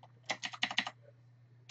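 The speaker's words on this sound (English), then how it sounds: "I'm going to use this time on the keyboard Shift-Alt with the up arrow" A Shift-Alt-Up arrow shortcut is pressed on a computer keyboard, giving a quick cluster of crisp, close key clicks and then a short pause before one more keystroke.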